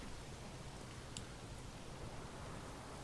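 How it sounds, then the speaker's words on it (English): Steady rain pours down over a medieval village in Manor Lords, a dense, even hiss that holds at the same level throughout, with no voices and only a faint brief tick near the middle. "let us zoom out as the rain hammers down"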